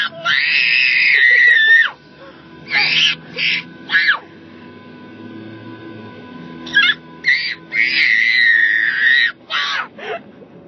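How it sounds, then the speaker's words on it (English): A baby lets out happy, high-pitched screams in bursts, a long shriek, then short squeals, then another long one, close and loud with quiet pauses between. "What are you screaming about?"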